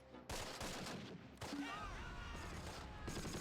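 Artillery and small-arms gunfire in the war game Close Combat: Wacht Am Rhein, a dense, continuous barrage of booming blasts and crackling shots, loud and close, with heavy impacts recurring throughout.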